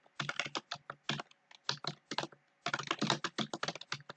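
Java code being typed on a computer keyboard, a close, quick run of clicky keystrokes in bursts with a brief pause midway.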